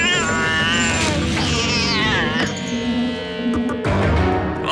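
Cartoon cat meows loudly in a drawn-out, wavering wail that bends up and down, set against a busy music and effects bed with no pause.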